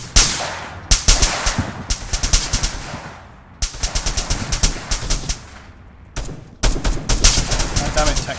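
Rapid machine-gun bursts in Arma 3 Apex on Tanoa, loud and close, several long strings of automatic fire broken by brief pauses.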